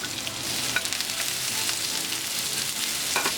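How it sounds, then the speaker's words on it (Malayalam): Chopped onion sautés in coconut oil in a pan, giving a steady moderate sizzle with occasional light stirring scrapes. "ഇതിലേക്ക് അരിഞ്ഞു വെച്ചിരിക്കുന്ന സവാള ചേർത്ത് വഴറ്റി കൊടുക്കാം"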